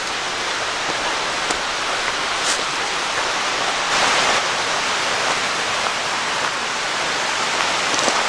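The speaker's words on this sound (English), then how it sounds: "there's where the water's coming out that little hole" Water flowing out of a small hole in the ruins of the Lake Leigh Dam at Ricketts Glen State Park gives a steady, close rushing hiss that holds level throughout with no talk.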